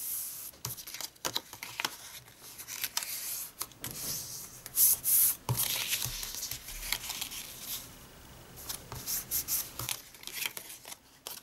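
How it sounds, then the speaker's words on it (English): Fold lines on scored card stock for a domed-top gift box being lightly burnished, dry rubbing and swishing strokes in irregular bursts with soft taps and paper handling, close up and without talk. "So now we're going to just lightly burnish our fold lines."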